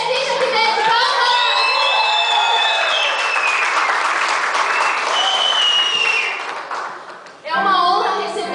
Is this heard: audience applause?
yes